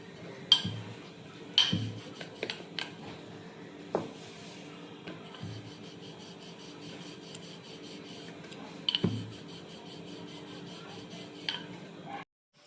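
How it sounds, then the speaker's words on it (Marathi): Spinach puri dough being rolled out into small rounds with a rolling pin, giving soft repeated rubbing and light wooden clicks at close range. The sounds are fairly faint, with no talk. "थोडंसं पीठ लावून मस्त छोटी गोल गोलपुरी लाटू"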